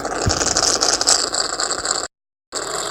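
A motor airplane engine in the Leo RC Simulator video game drones with a steady, buzzing whine, cutting out abruptly for about half a second before resuming at the same level.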